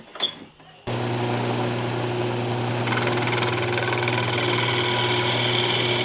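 Wood lathe turning a wooden coffee cup, a steady motor hum and faint scraping of the tool as the wall is thinned, starting abruptly after a brief knock and running continuously, close and alone.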